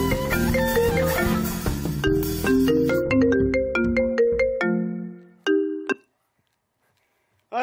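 A ringtone melody plays during a live band act, a loud, clear tune of bright chiming notes that steps down and fades into silence.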